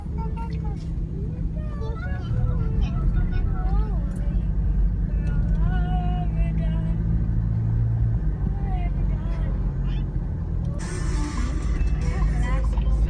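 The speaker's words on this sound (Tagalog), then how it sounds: "Siguradong traffic na to papunta sa amin." Night road traffic in Cebu with large trucks and dump trucks on the move, a steady loud rumble of engines passing close, with people talking throughout and a hiss rising near the end.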